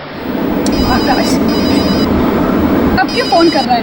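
A telephone rings in short bursts over loud background noise and a chattering voice, the ringing tones repeating a few times.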